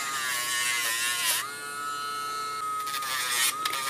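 A Dremel rotary tool grinds a Cavalier's nails, a close, steady high-pitched buzzing whine that shifts pitch slightly as it presses against the nail.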